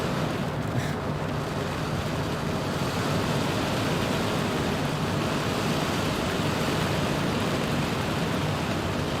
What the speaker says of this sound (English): We're still getting generally 60, 65 knot winds here in this area